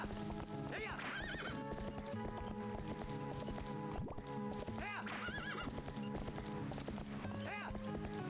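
A horse in the video game Twilight Princess gallops with rapid clip-clopping hooves and lets out several shrill neighs and whinnies over game music, loud and close.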